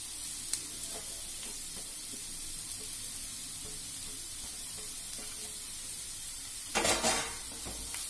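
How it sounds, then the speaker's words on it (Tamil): Onions and carrots sauté in a pan, giving a steady soft sizzle with faint stirring scrapes and a louder clatter of a utensil against the pan near the end. "எல்லாத்தையும் ஒன்று நல்லா வதங்கிட்டு பாருங்கள்"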